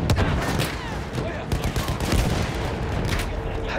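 Machine gun and artillery fire in the Battlefield 1 video game, dense rapid bursts and heavy booms layered continuously with battlefield noise, loud and close throughout.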